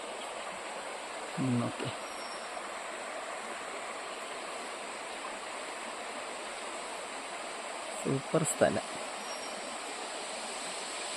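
Thommankuthu waterfall near Thodupuzha, a steady broadband rush of falling water that holds evenly throughout, with brief speech breaking in twice.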